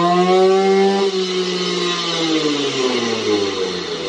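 A Simson cross moped with road tyres runs on a dynamometer, its two-stroke engine screaming loud and close at high revs, then sliding steadily down in pitch as it winds off.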